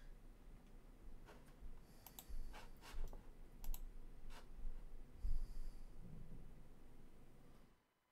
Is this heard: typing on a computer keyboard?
yes